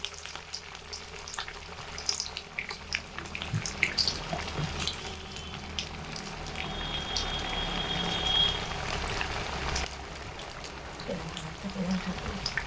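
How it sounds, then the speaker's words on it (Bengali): Semolina pakora pieces frying in oil give a sustained bubbling sizzle with constant fine crackles and pops, swelling slightly midway and continuing close and steady throughout. "সুজির পকোড়ার পিসগুলো দিয়ে একে একে ভেজে নেব।"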